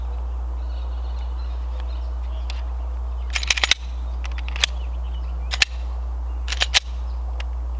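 Gunshots at target shooting practice: a cluster of sharp cracks followed by several spaced single shots, heard at a distance over a loud, steady low hum, with no talking.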